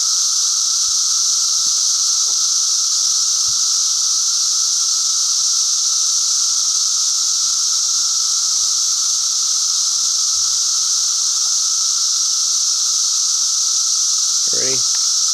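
Periodical 17-year cicadas fill the air with a loud, unbroken high-pitched whining chorus, steady and dense throughout, with a brief faint voice near the end.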